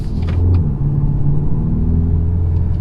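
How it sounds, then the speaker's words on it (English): A 302 hp four-cylinder engine in a BMW X2 M35i idles and hums steadily, a deep continuous rumble heard up close with a slight rise in revs partway through. "This car sounds pretty good for a 4-cylinder"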